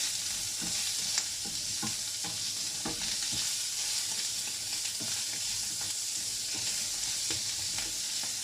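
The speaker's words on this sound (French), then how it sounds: "Donc on touille hein, quand il y a les poivrons, là, le feu à fond" Bell peppers stirred in a pan over full high heat for carrot-and-mushroom pasta, giving a steady loud sizzle with repeated scraping stir strokes throughout and no voices.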